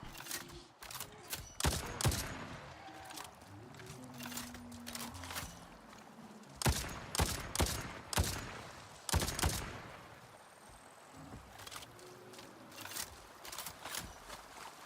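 Video game gunfire in Avatar: Frontiers of Pandora, with repeated sharp shots in quick clusters, some rapid bursts, over a background of footsteps and ambient rustle.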